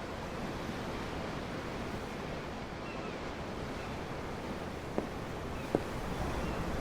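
Ocean waves in the video game Tales of Arise, heard from a ship's deck as a steady broad wash of surf with a couple of faint clicks, alone without talk.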